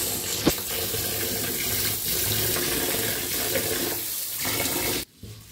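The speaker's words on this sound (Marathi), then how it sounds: "तांदूळ घेतले आता स्वच्छ याला धुवून घेऊया आपण। पाण्याने धुवायचा।" Rice is washed under a running kitchen tap, a steady close gush of water splashing into a vessel for about five seconds before the flow stops abruptly.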